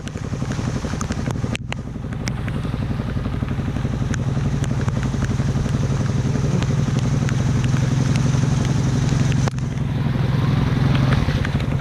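A Honda four-wheeler ATV engine runs continuously and close, a rough throbbing drone with clattering and wind buffeting, rising slightly in the second half at an adventure park.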